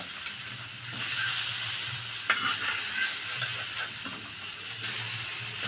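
Hotel-style fish pieces frying in oil in a pan, a steady close hiss and sizzle with occasional crackles and soft turning sounds, no talking.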